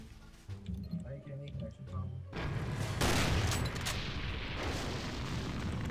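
A rocket launching in the Garry's Mod sandbox video game, a loud rushing whoosh and rumble that bursts in midway and holds steady, following quieter game sounds, with people talking over it.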